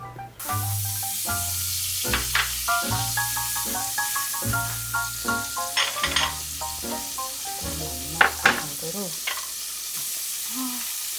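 Butter melts and sizzles in a heated pan with a steady hiss and occasional soft scrapes, under a melodic background of music.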